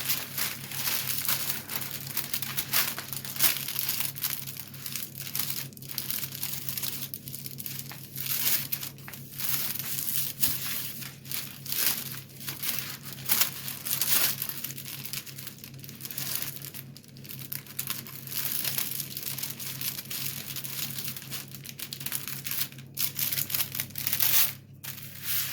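Baking paper is crinkled and pressed into a non-stick baking pan, giving continuous close crackling and rustling with sharp crisp bursts over a low steady hum.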